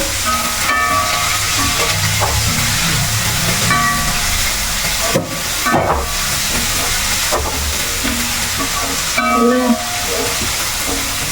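Green chillies frying in a pan for a homestyle chicken curry give a steady, loud, hissing sizzle that runs throughout, with a few brief swells and clatters of stirring.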